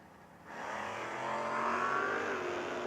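Drag race cars at a footbrake drag racing event, one a Mustang, roar off the line, the engine noise jumping suddenly from a low idle to a loud, sustained, rising wail that holds to the end.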